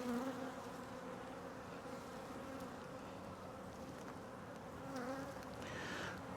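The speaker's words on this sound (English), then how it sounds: "I think a lot of these bees are going to leave and go to the split" Honeybees buzzing around a newly made hive split, a steady, dense hum of many insects close by with occasional louder passes of individual bees.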